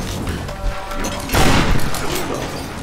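Shotgun blasts and chaotic combat fire in the video game Tomb Raider, a steady rumbling barrage topped by one louder, broad burst partway through, close and heavy.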